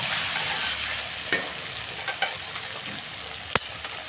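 Asafoetida dropped into hot oil in a pan with tomatoes for a mixed vegetable bhaji, giving a steady close sizzle with a few sharp spatters and pops and no voices.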